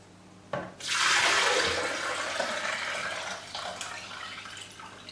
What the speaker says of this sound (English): all you have to do is pour the apple juice back in there